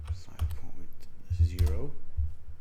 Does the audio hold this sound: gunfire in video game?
no